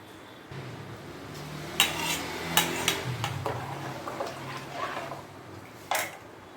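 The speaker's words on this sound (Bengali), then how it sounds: "আমি চালগুলো সব এর মধ্যে জলের মধ্যে দিয়ে দিচ্ছি" Rice poured into a pot of hot water for cooking: soft metallic knocks and clinks against the pot with a faint watery wash, a few sharper taps scattered through.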